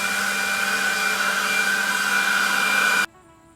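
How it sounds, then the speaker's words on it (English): A handheld blower blasts debris out of a concrete crack during repair prep, giving a steady loud whooshing whine with a constant tone that cuts off abruptly near the end, with no voices over it. "I'm going to take a blower, just give it a quick little blow off."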